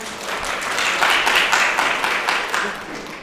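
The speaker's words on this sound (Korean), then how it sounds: "인사 말씀해 주신 류혜수 과장님께 다시 한번 더 감사의 박수 부탁드립니다" Audience applause at an education policy forum in Ulsan, thanking a department head after her greeting; steady, dense clapping from a seated crowd lasting a few seconds, with some murmured voices mixed in.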